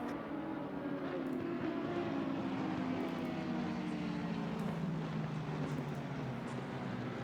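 Race cars circle Paul Ricard in a sim racing game, a continuous droning engine hum running at a constant level for several seconds, fairly quiet and without speech.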